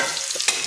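Carrots being stirred into hot ghee in a pressure cooker, a brief near scrape with a soft sizzle and one sharper clink of the spoon near the end.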